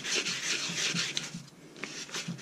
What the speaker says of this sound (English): it's just going to be light sand,